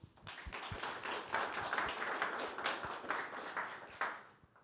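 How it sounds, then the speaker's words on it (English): Brief applause from a seminar audience for a presenter, scattered claps and taps sounding faint and somewhat distant in a hall, steady for several seconds, with no talk over it. "Let's give a short applause to our presenter."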